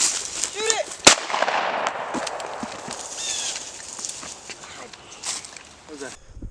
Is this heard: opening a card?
no